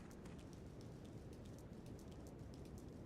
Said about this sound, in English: Why is it raining indoors?